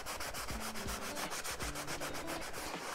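A damp cloth is rubbed back and forth over Fjällräven Kanken backpack fabric in quick, rhythmic strokes, a close, soft scrubbing sound with no talk.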